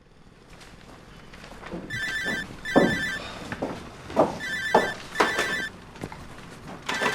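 A mobile phone rings in repeated short electronic bursts, about five of them, fairly close, among footsteps and small household knocks between the rings.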